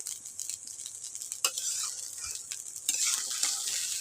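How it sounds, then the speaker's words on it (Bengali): Cooked rice being stirred together with spice masala in a frying pan, a steady soft sizzle with intermittent scraping stir strokes, close and moderately quiet, no talking. "দেওয়ার পরে আমি 2 মিনিট এখনই ভাতটাকে আর মশলাটাকে ভালো মতো মিশিয়ে"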